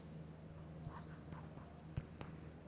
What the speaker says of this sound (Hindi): और यहाँ पर लिखेंगे